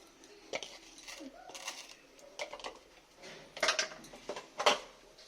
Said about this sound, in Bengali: এটাকে আমি একটু নেড়ে একটুখানি ভেজে নেব।